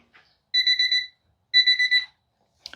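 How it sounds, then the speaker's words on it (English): A cooking timer alarm goes off while smoke-fried wings cook, sounding two loud, close bursts of rapid high beeps separated by a short pause, with no talk over it. "Now I got my timer set for 45 minutes."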